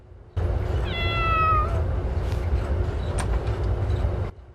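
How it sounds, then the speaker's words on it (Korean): A cat gives one clear, drawn-out meow early on, heard close over a constant low rumble that runs the whole time and stops abruptly near the end. "오랫동안 듣지 못했던 고양이 울음소리가 들려왔죠"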